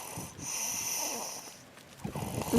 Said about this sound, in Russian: Вам слышно, как храпит?